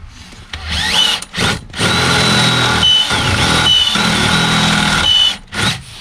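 A cordless power drill whirs loudly and close in several sustained bursts with brief stops between, its motor pitch wavering under load during a K brace installation on a building frame.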